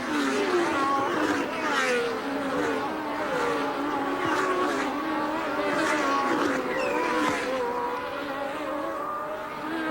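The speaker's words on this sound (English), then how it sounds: "Nigel Mansell towards us in the Lotus 87, and there is the race leader, Prost" Formula 1 cars at the 1981 French Grand Prix, among them a Lotus 87, howl past in overlapping waves of rising and falling engine pitch. The sound stays loud and continuous, with race commentary beneath it.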